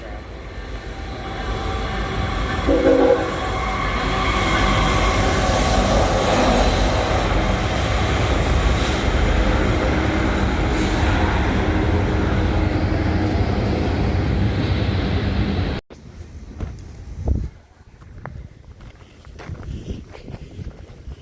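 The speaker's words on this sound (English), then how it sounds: "Do you get a lot of trains through here every day? This is, I think, our fourth one." A CSX or Amtrak train rolls past the Martinsburg roundhouse, a loud, steady rumble and roar lasting about fifteen seconds before cutting off, then a few faint knocks and clanks in the quieter air afterward.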